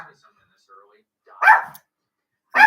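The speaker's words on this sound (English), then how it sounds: "So she decided to bark at the window." A dog barking at a window, two loud sharp barks about a second apart following a few faint whimpering sounds, heard close up indoors.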